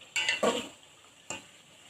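A spoon stirs spices into meat and cauliflower cooking in a pot, giving a few brief scraping clanks near the start and one more after a pause, close and loud with no talking.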